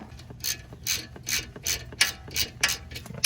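Ratchet fitted with a 13 mm socket working the brake caliper slide pins on a 2013 Audi S4, eight quick clicking ratchet strokes in an even back-and-forth rhythm, close and clear with no talk.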